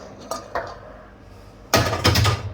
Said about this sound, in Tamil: அதுவும் சலாட்டுக்கு கலக்கிறேன்